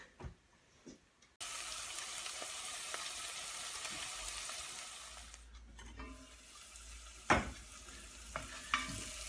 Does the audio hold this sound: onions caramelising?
yes